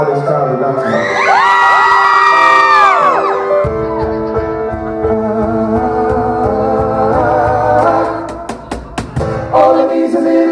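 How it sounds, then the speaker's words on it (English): A concert crowd cheers, shouts and whoops loudly and continuously at a Rixton pop show, with high excited cries rising at the start before the noise settles into a sustained roar. "I've got a sneaky feeling you lot are going to be the loudest crowd we've done tonight."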